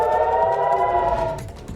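Air raid siren wailing in Haifa, a loud sustained tone that holds steady and then starts to fall away near the end.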